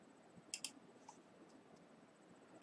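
A computer mouse clicked a few times, faint sharp clicks in a quiet room, a quick pair early and softer ones spaced out after, with a louder click at the very end.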